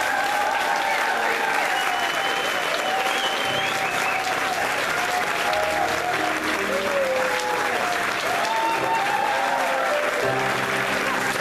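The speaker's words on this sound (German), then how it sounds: "Wir möchten uns nochmal mit einem Applaus bei den beiden Schauspielern bedanken" A theatre audience gives sustained, dense applause for two stage actors at an after-show party, steady clapping from a large crowd lasting throughout, with a few faint voices and whoops mixed in.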